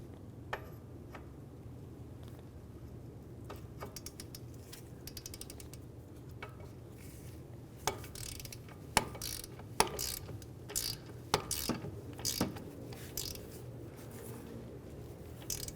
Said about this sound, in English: We're going to start at the bottom and torque them down to 150 foot-pounds.